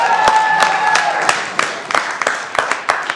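Audience at a city council work meeting applauds a state championship girls' team, a burst of sparse, uneven claps that thins into scattered individual hand claps, fairly close, with a faint tone behind at first.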